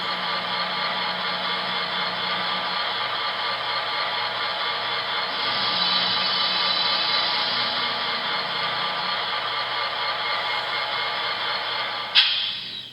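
A Broadway Limited SD40-2 high-hood model diesel locomotive idles with a steady, even engine drone and hiss that swells briefly in the middle, ending with a sharp click.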